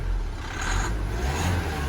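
A 2014 Vauxhall Vivaro van with a 1.6 CDTI diesel engine revs up close by, a loud, rough, steady drone with a slight rise in the middle.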